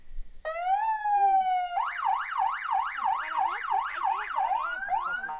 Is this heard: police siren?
yes